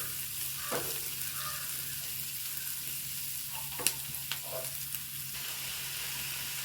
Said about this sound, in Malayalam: ഇതൊന്ന് നല്ലോണം വഴറ്റട്ടെ.